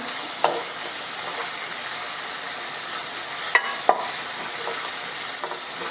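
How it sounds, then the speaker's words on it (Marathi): Chopped medium onion sautéing in a pan for Rajasthani gatte ki sabzi, giving a steady, even sizzle throughout with a couple of brief stirring scrapes near the end. "हा कांदा छान परतून घ्यायचा आहे"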